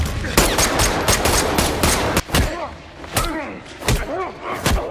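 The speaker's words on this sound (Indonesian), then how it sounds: "Sementara Nick terluka akibat tembakan." Rapid bursts of automatic gunfire from an action film crack loudly and close, layered with heavy thuds and impacts in a dense, continuous barrage.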